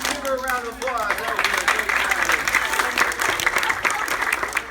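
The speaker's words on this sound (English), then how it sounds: "Give her a round of applause." Students at an all-school music meeting applaud in a steady burst of clapping, with a voice speaking over the start.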